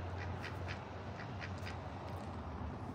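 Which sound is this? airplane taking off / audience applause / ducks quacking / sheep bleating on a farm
ducks quacking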